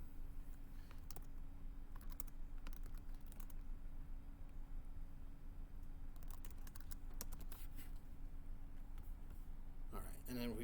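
Typing on a computer keyboard while editing code, scattered bursts of quick key clicks over a steady hum of background noise, fairly faint.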